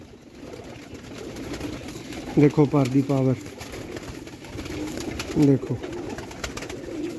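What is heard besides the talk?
rooftop pigeons cooing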